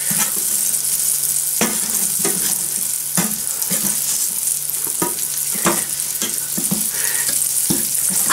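Battered mushrooms fry in a pan with a steady, close sizzle, broken by regular scraping clinks of a utensil stirring and turning them, with no talking.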